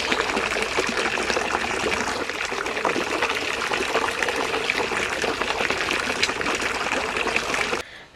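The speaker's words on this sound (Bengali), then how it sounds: "এক বালতি জল এক একটা গাছে" A bucket of water is poured out onto garden plants on a family farm, a loud, close, continuous splashing gush that holds steady for several seconds before cutting off abruptly.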